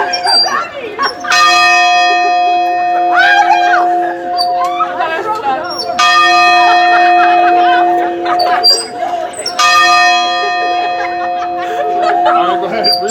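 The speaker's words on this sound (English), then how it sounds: "You've been waiting for the bell ring." A bell rings in three sustained, resonant clangs at a girls basketball celebration, each strike leaving a long ringing tone that fades before the next, with cheering, laughter and voices underneath.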